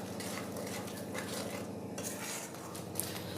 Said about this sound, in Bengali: দিয়ে মশলাটা খুব ভালোভাবে কষিয়ে নেব।